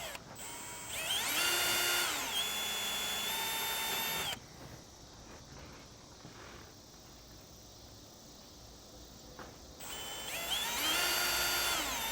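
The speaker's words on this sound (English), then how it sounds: "we're just going to come back through with a drill bit and drill those out" A power drill whines loudly in two bursts while drilling holes to mount a camera onto a trailer, revving up and holding a steady pitch, with a quieter stretch of low handling noise between them.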